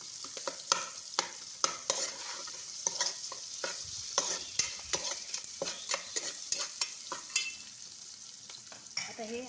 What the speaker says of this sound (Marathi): आणि हे आपल्याला चांगलं असं लालसर होऊन द्यायचं आहे लसूण आणि कांदा